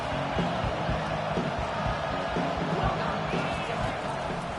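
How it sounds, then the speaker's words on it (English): A stadium crowd in the Football 25 American football game roars on third down as a constant, dense wall of cheering noise that stays loud throughout, with muffled thumps in the background and talk mixed in. "Decibels rising as the crowd gets behind this defense on 3rd down."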